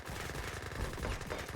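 Dense gunfire erupts during an Age of Empires III battle, with a steady crackle of overlapping musket and Gatling gun shots that runs continuously and stays fairly quiet under the game mix.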